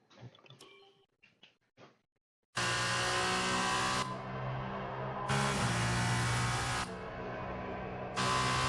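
Formula 2 race cars in F1 2021, racing at Abu Dhabi in the final race of the 2019 championship, roar past loud and close in sustained high-revving waves after a few seconds of quieter sounds.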